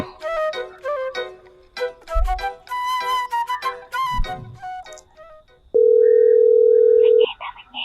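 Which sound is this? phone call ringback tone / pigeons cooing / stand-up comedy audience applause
phone call ringback tone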